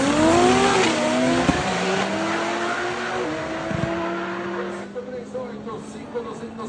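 A six-cylinder turbocharged Ford Falcon race car accelerates down a drag strip, its loud engine note climbing in pitch through several gear changes, with a commentator talking over it.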